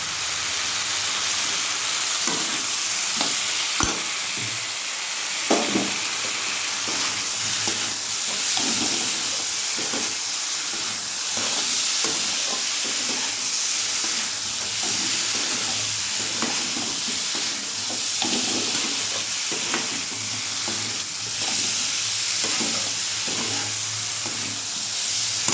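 Chilli powder and spices frying in a pan while being stirred, with a steady bright sizzle and hiss throughout, broken by frequent scraping stir strokes, close and fairly loud with no talking.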